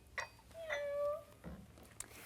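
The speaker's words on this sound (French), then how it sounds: "ça s'appelle Joy for All. Donc des chats et chiens robotisés" A Joy for All robotic toy cat gives a soft, drawn-out meow followed by a few faint mechanical clicks, quiet and close in a still room.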